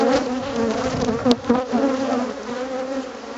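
A close, steady swarm of honey bees drones loudly at an apiary hive with a wavering pitch and a brief click partway through.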